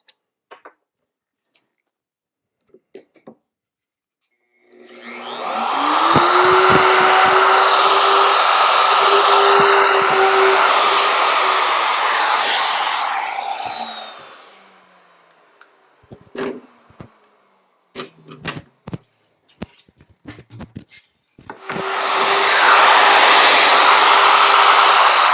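A self-centering drill bit bores shelf pin holes through a template clamped to a cabinet side, with two long loud whining bursts of drilling separated by a pause of small clicks and handling knocks.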